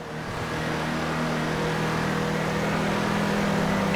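A video game car's engine builds into a loud, steady roar as it climbs toward top speed. The droning tone swells slightly over a few seconds, with no speech.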